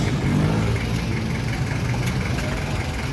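A jeep engine idling close by outdoors, a steady low rumble that holds even throughout without revving, with faint background noise around it.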